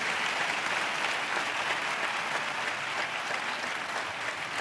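A congregation at a church service claps in sustained applause, a dense, even wash of many hands that carries on steadily with no break.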